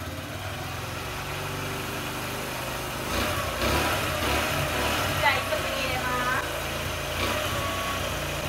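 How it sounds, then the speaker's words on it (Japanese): A Kawasaki KSR motorcycle's small engine idles steadily close by, a low rumbling drone that rises slightly in the middle and then settles back. "ちょっとまずエンジンかかったんで見てください。"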